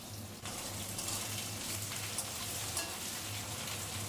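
Potatoes fry in hot oil, making a soft, continuous hiss and sizzle at moderate distance with faint popping throughout and no voices.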